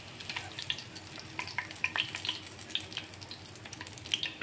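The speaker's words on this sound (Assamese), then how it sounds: "এনেদৰে ওলট পলট কৰি অলপ ৰংচুৱাকৈ ভাজি ল'ম।" Bitter gourd (bhat kerela) slices fry in hot oil and are turned over, giving a close, steady sizzle with light crackles and occasional soft clinks.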